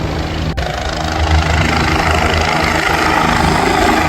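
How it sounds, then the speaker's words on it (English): Helicopter landing at a Porsche-filled supercar meet in Franklin, Tennessee: a loud, steady rotor and engine roar close by, with a constant low-frequency thrum throughout. "We got the helicopter landing."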